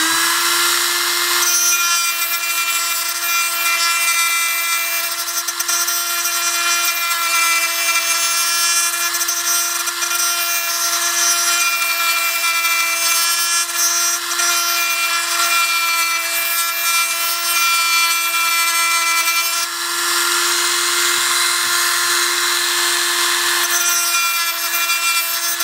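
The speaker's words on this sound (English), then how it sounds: "we're going to try and grind this down without hitting this first tooth" A power tool grinds down a metal gearbox piston tooth with a steady, high-pitched whine. The grinding is loud and close, runs continuously with no talk, and shifts briefly in pitch partway through.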